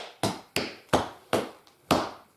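Tap dance shoes strike a hard floor in a riff of about five sharp, crisp taps plus one faint softer one, close and clear with short ringing decays and no talking.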